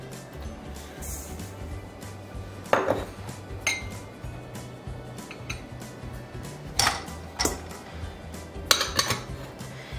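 Clinks and scrapes of a utensil mixing both sugars with peanut butter into cupcake batter in a bowl, several sharp taps spaced irregularly over a steady low hum, fairly close.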